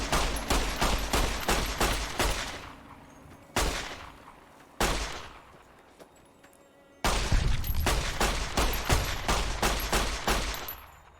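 Hip-fired gunfire in the Fallout VR mod rattles out in rapid automatic bursts, loud and close, with a few pauses marked by single heavy shots and decaying echoes before another long burst.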